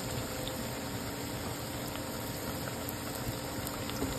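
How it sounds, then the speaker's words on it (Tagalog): Steady, soft bubbling of water boiling in a pot, continuous and even throughout, with no talking. "Kasalukuyan kumukulo."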